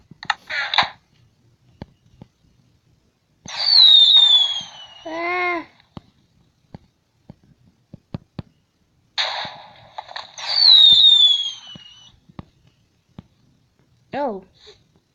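Fireworks at a small fireworks show whistle and hiss with falling tones in two bursts several seconds apart, mixed with sharp crackles and pops, while people murmur and exclaim nearby.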